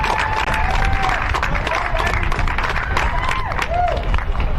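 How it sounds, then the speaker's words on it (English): A crowd of spectators claps and cheers in a continuous, dense wash of applause at the award podium of a bagger motorcycle road race, loud and close throughout. "give us a nice round of applause for the Barnett Super Street class"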